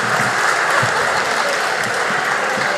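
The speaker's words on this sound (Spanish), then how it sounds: "Dejen de aplaudir" A crowd in a legislative chamber keeps up dense, loud, continuous applause throughout, a steady wash of clapping with a few faint voices underneath.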